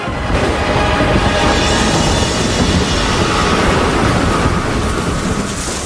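A thunderstorm with heavy rain during a storm at sea: a loud, continuous roar of rainfall with deep rumbling thunder swelling underneath, with no voices.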